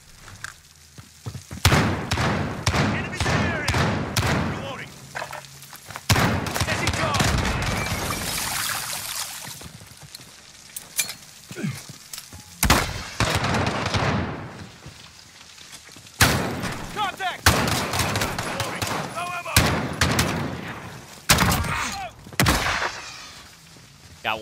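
Loud, sharp shotgun blasts in Call of Duty Modern Warfare multiplayer fire in irregular clusters, with other thuds and game noise between the shots and occasional voices.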